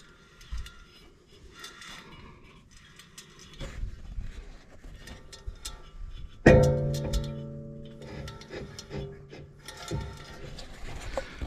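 A worn wheel hub on a Ram 1500 pickup gives off a repeated clicking, ratcheting mechanical noise that keeps running through the stretch, with one sharper metallic clunk partway in. No voice is heard.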